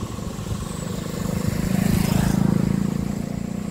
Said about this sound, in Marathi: गाड्या जात आहेत बघा, नुसत्या गाड्या जात आहेत